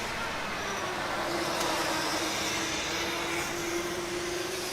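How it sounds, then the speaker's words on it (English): A Konstanz Formula Student race car rolling up to the green flag during an endurance event, giving off a steady broadband whir with a faint sustained pitched whine, likely from a fan, close and continuous without voices. "quite a lot of sound coming from the car as they roll up to the green flag"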